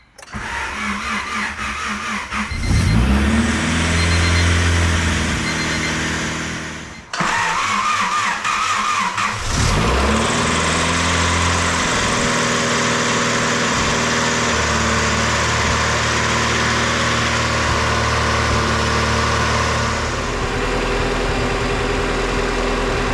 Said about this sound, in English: Time to try to start it.